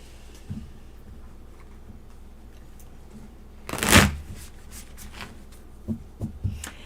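A single brisk riffle of tarot cards being shuffled close by, followed by a few soft taps and handling noises in a quiet room.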